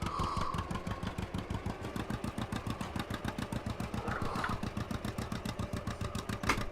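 Tractor engine running steadily while the machine reverses, a close, loud, even rhythmic chug that carries unbroken throughout with no talk over it.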